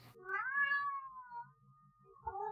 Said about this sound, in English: Got a cat or something?